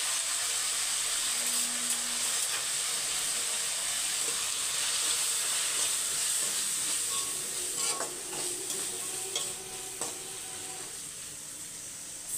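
Capsicum fries with chili powder in a pan, a steady close hiss and sizzle with faint stirring scrapes and clicks toward the end, moderately quiet, with no voices.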